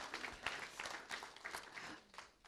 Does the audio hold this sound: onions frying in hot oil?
no